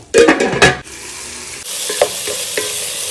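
Chopped tomatoes for a Palakkad-Coimbatore style biryani are stirred in a pan, loud clattering scrapes of a spoon against metal at first, then a softer steady sizzle with occasional taps.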